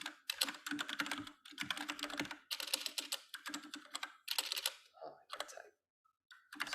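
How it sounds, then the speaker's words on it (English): Rapid bursts of typing on a computer keyboard during a Python programming class, close and crisp clicks in several runs separated by short pauses, with a few isolated keystrokes near the end. "Let me finish typing whatever I have"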